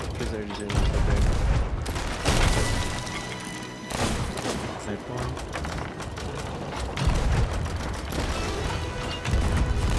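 Scatter shots fired in Sea of Thieves, a pirate ship combat game, as repeated loud blasts and crashes in a busy, continuous din, with voices talking over it.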